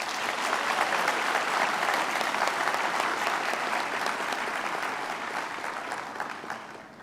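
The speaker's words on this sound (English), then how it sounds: "Please give them a round of applause." An audience at a university graduation ceremony for health sciences, law and theology applauds with a dense, sustained wash of clapping. It stays loud for several seconds and then begins to taper off near the end.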